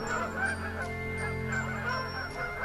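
A flock of Canada geese honks in flight, repeated nasal calls overlapping in an irregular rhythm, fairly close and loud, with no voices present.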